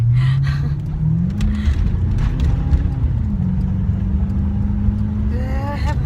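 A car passes close by on a road, a loud engine drone that rises and shifts in pitch and then holds steady, with a brief further sweep near the end.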